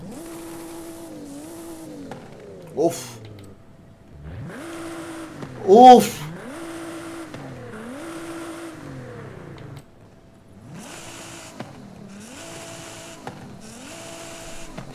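Nissan 350Z exhaust revving in the racing game Forza Horizon 5, with repeated rising and falling engine notes, brief pauses between revs, and a short exclamation over it.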